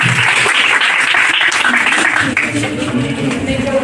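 An audience claps and applauds at an NSS camp inaugural function, a sustained burst of many hands that softens toward the end, with voices mixed in.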